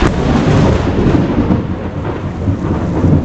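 A loud, continuous roll of thunder rumbles low and heavy throughout, with the hiss of rain underneath.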